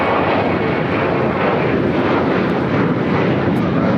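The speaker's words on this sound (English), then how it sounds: "1899 taking off to Indianapolis on the 737-800 in the AirCal Retro livery" An American Airlines Boeing 737-800 in AirCal Retro livery takes off from LAX for Indianapolis, a loud, continuous engine roar filling the air close by, steady and unbroken, with no one speaking.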